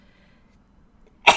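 A single loud, close sneeze bursts out suddenly at the end after near silence, during a low-stakes PokerStars Spin and Go poker session.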